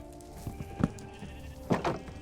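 Minecraft sheep bleat a few times near a burning village, short nasal cries over a steady noisy background, with two louder bleats standing out.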